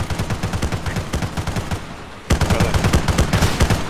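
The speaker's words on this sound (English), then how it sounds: "Lots of gunfire." Rapid bursts of automatic gunfire from an Arma 3 firefight ring out in a steady rhythmic stream, loud and close, with a brief lull before heavier shooting resumes.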